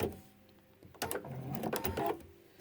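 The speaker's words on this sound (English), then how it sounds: "And and sew off the corner." Sewing machine stitching quilt binding off the corner, a short close burst of rapid mechanical whirring that starts after a quiet moment and runs about a second and a half without talk.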